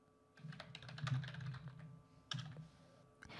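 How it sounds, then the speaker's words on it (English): Typing on a computer keyboard, a quick run of quiet, close key clicks and taps with short pauses, alone with no voices. "I'm gonna delete the already existing text and type in a new one."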